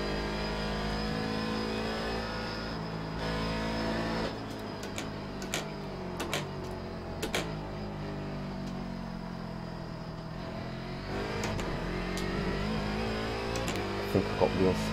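A C7 DP race car in the iRacing sim revs and shifts around Mosport, its engine note rising and falling in sweeps while someone talks over it and sharp ticks punctuate the run.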